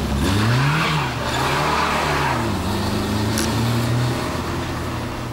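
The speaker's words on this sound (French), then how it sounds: "le moteur de la Gord a encore de beaux restes" A Renault R8 Gordini rally car at the Monte Carlo Historique 2007 drives past loudly and up close, its engine revving up and down through gear changes in a steady, rising and falling drone.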